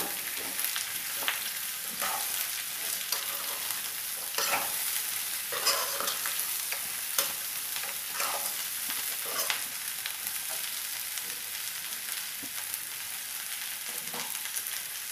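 Ridge gourd pieces fry in a pan for a curry, with a steady sizzle running throughout and regular scraping strokes from stirring, close and fairly quiet, with no talk.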